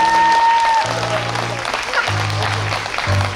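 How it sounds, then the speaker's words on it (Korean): Applause from an audience after a live jazz trio performance with harmonica, clapping that thins out while sustained tones from a keyboard or instrument and a talking voice come through in the background. "큰 박수로 응원해 주시면 감사하겠습니다."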